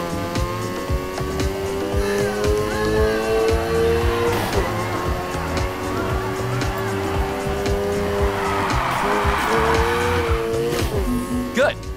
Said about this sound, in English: Keep that drift going. You need to hold the drift a little longer.